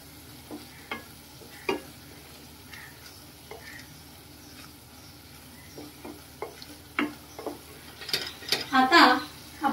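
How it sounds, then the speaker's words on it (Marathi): Spoon stirring corn masala vegetable gravy in a frying pan, soft sizzling under scattered scrapes and clinks against the pan, growing busier near the end. "आता आपण ह्याला व्यवस्थित ढवळून घेऊया। व्यवस्थित हे सगळं मिक्स करून घेऊया।"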